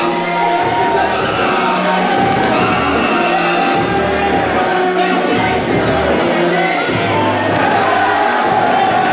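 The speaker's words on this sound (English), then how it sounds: "kind of a mixed reaction from this crowd" A wrestling arena crowd gives a mixed reaction, a loud continuous roar of cheers, yells and whoops filling the whole stretch with steady rumbling swells underneath.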